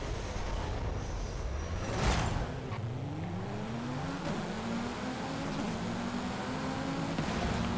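Several car engines rev and accelerate together at a race start in Forza Horizon, rising pitch sweeps climbing steadily as the cars pull away, loud and continuous with a brief burst of noise near the start.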